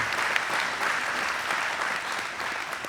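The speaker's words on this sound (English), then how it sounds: "you can clap for that." An audience at a town hall in Beaver Dam breaks into sustained, dense applause that holds at a steady level throughout, with no speech over it.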